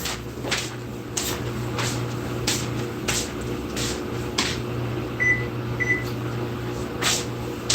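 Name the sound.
oven being switched on in the kitchen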